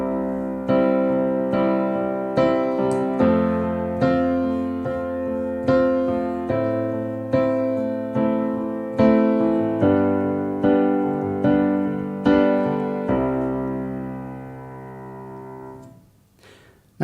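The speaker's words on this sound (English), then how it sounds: "I'm going to assume that you want to accompany yourself singing on the piano" Piano chords played as accompaniment for singing, a steady sequence of full, sustained chords struck one after another at an even pace, loud and close, fading out at the end.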